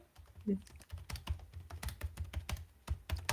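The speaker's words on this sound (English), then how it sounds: "typing" Rapid typing on a computer keyboard, close by, with a quick run of key clicks and thumps. A brief faint vocal sound comes early on.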